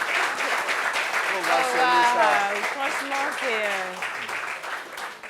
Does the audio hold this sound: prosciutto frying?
no